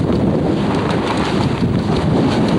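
Strong wind roars steadily aboard a B-40 sailboat sailing hard on the wind in the Gulf Stream during an ocean race, with the sail's edge flapping rapidly beneath the constant loud, close gusting.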